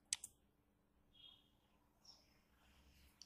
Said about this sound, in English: click on personalize